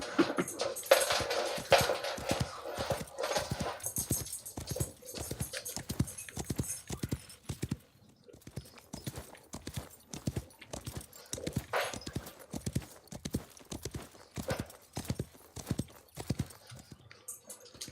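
Horse hooves clip-clop in a steady, even rhythm while riding in the Wild West Online video game, loud and close throughout with a brief quieter stretch midway and a faint whinny-like sound early on.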